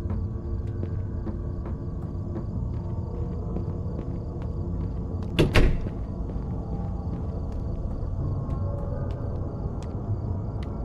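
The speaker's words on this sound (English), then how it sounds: "Shut that door." A door in the Fears To Fathom horror game shuts with a single muffled thud partway through, set against a steady drone of crickets and low ambient hum.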